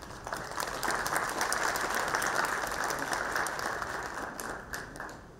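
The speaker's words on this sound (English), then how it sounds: "I request all to please welcome him with a round of applause." An audience at a memorial lecture function applauds to welcome the chief guest, a sustained, even round of clapping from many hands that tapers off at the end.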